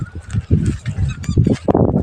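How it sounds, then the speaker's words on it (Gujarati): Farm birds call in the morning out on open fields, giving a run of close, loud honking and squawking cries in quick succession. "પક્ષી બોલે હવે"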